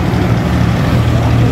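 Steady, loud engine drone and road rumble from traffic, including tractors, streaming along a congested highway to Delhi during the farmers' protest, a continuous wash of passing vehicles with no gaps.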